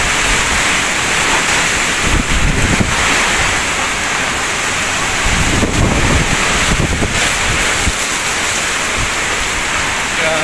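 Strong typhoon wind from Typhoon Kristine roars steadily and loudly across a flooded street in Bay, Laguna, buffeting the microphone with gusty surges and a constant broadband rush like surf, no speech.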